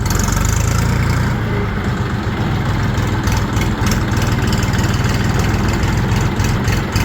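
A Chinese RD 244 LUX tractor engine chugging steadily while driving, a loud, close, continuous low diesel rumble with rattling throughout and no talk.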